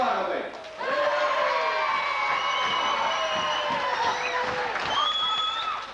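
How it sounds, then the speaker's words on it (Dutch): A crowd at a 1992 village strongman contest applauds and cheers for a contestant, a loud burst of clapping and whoops mixed with shrill, whistle-like tones and people talking. "Een groot applaus voor Gerry Lagerbeek"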